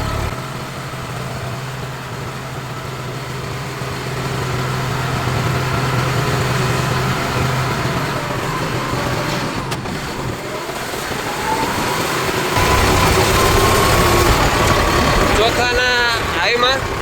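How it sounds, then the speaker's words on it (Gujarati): A New Holland 3230 TX tractor engine pulls a full load with a loud, steady diesel drone. The rumble builds slightly toward the end, and no one talks over it. "ફાટો પણ બીજા એટલે ફૂલ લોડમાં અત્યારે ટ્રેક્ટર જઈ રહ્યું છે"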